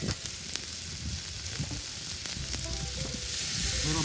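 Butter melts on a teppanyaki griddle, giving a soft, continuous sizzle with scattered crackles and the occasional scrape of a spatula, growing a little louder toward the end.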